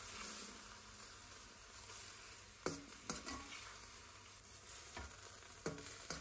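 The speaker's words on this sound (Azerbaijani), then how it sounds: "Əti əlavə edib gür odda qarışdırırıq." Thin beef strips for tantuni fry over high heat in a lightly oiled hot pan, giving a steady close sizzle with a few sharp stirring scrapes and knocks.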